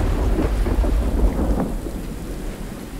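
Steady rain with deep rolling thunder in the survival video game Under A New Sun, a loud continuous wash of rainfall over low rumbling that swells and fades, with no voices.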